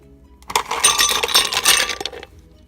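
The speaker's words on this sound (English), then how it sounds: "So I have some ice over here, which I'm going to put into the blender" Hard chunks of ice clatter and rattle into a blender in a quick burst lasting over a second, fairly close and loud, with no talking.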